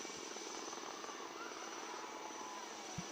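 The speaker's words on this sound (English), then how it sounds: "you are the indigenous helicopters Chetak and an ALH helicopter to demonstrate the search and rescue demo" Indian Navy Chetak and ALH Mark III helicopters flying a search and rescue demonstration at a Navy Day display in Visakhapatnam, a steady loud rotor and engine drone holding throughout with a couple of brief thumps.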